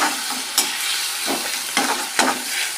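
Mint and coriander leaves are sautéed in a pan for pudina thuvaiyal, a loud, close sizzle punctuated by several sharp spatula scrapes and stirs.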